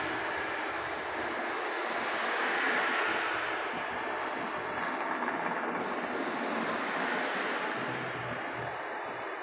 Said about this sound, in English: Not that wind would just stop.